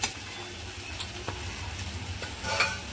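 Kaju masala gravy stir-fried in a pan for a Marathi home recipe, a steady low sizzle with soft scraping stirs and a few light clinks throughout, no voices.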